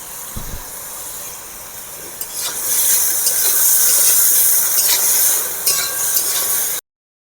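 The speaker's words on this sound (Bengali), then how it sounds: "লতিগুলো ভাজা হয়ে গিয়েছে এবার আমি তুলে নেব" Taro stolons fry in hot oil in a wok, producing a loud, steady sizzling hiss that swells after the first seconds and holds until it cuts off abruptly.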